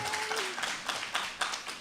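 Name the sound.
audience applause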